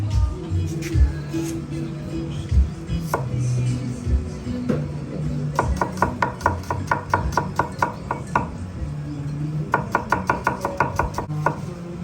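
A knife chops vegetables on a board for a soup, first a few scattered cuts under a voice, then fast, rhythmic bursts of close, sharp strokes.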